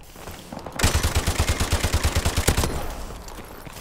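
Rapid burst of gunfire in Call of Duty: Modern Warfare from a sniper, loud and close, about fifteen evenly spaced shots over roughly two seconds with a sharper crack near the end, then fading to quiet.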